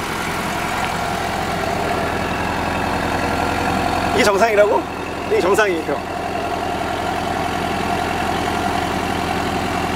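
A Porsche 718 Cayman S engine idles at a steady, slightly raised pitch, with two short revs in the middle while people talk over it.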